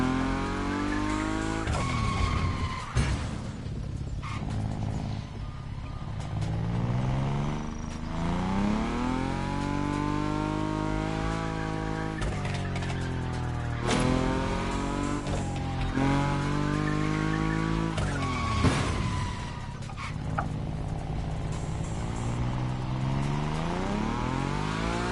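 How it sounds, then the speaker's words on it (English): A Nissan Nismo sliding at high speed in The Crew Motorfest, with a steady engine roar and long, wavering tire squeal and skid sweeping up and down throughout, loud and continuous. "Your Nismo is powerful enough to slide along on its own when you're at high speed"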